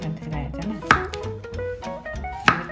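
A knife cutting zucchini into thin julienne strips for Korean janchi guksu noodle soup, with two sharp chops against a cutting board amid softer cutting noise and tonal background sounds.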